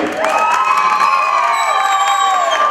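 Wedding guests cheer and shout together for the bride's side, a loud, dense burst of crowd whoops and voices that carries on without a break, with clapping mixed in underneath.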